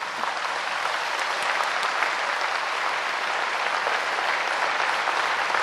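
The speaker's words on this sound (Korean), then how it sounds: "박수 한 번 더 해보지." Audience in a large hall applauding during a religious address, a dense continuous roar of clapping hands that holds steady and loud throughout, with no voices standing out.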